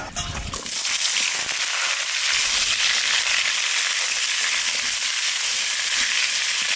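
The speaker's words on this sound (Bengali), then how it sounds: "এবার কলাটা একটু ভেজে নেবো" Raw green banana pieces fry in hot oil in a pan, a loud, dense, continuous sizzle and crackle that bursts up sharply and then holds steady, heard close with no talk.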